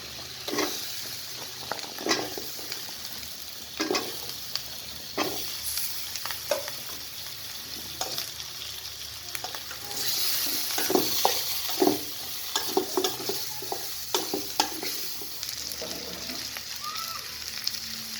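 Potatoes frying in cooked-down spice paste for a rohu fish curry crackle steadily up close, broken by repeated scraping and knocking strokes of a spoon stirring the pan.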